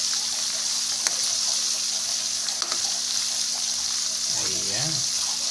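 Galunggong fish sizzles steadily in hot oil in a pan for adobong galunggong, a continuous close frying hiss with a couple of faint clicks and a soft scraping near the end as the fish is turned over.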